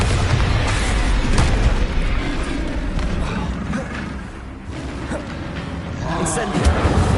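Bombarda blasting spell explosions in the Hogwarts Legacy video game, a loud, sustained booming rumble with repeated heavy bursts and crackle, under a voice talking.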